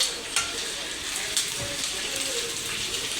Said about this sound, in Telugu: కొంచెం కరివేపాకు వేసుకున్నాను.